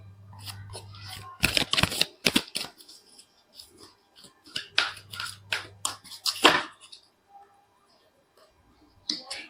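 Tarot cards are drawn and laid out on a table, clusters of crisp card slaps and flicks in two busy bursts with quiet gaps between, close, with faint low hum and no talk.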